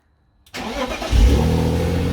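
Drift car engine cranks briefly after a moment of silence, then catches and settles into a loud, steady idle up close.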